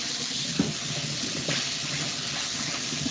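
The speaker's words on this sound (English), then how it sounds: "Trying to wash my hands in the kitchen and stuff." A kitchen tap runs steadily while someone washes their hands: continuous splashing water at close range, with a couple of faint knocks against the sink and no talking.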